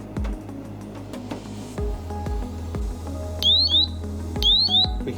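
A solo safety monitoring unit goes into alarm, letting out pairs of sharp, rising electronic chirps twice over scattered clicks and taps, close by and fairly quiet.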